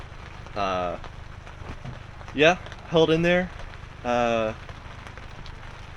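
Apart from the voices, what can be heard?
rain hitting goggles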